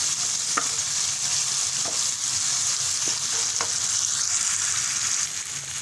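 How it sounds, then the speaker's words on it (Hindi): Moong dal fritters (mongre) fry in hot ghee with a steady, loud broadband sizzle, broken by a few sharp clicks and pops of spoon stirring against the pan; no one speaks. "तो पहले मैं डालूँगी मोंगरे, क्योंकि मोंगरे पहले घी में भून जाएंगे"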